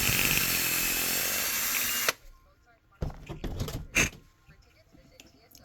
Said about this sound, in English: what I have is I just put a file onto a drill and it works perfectly.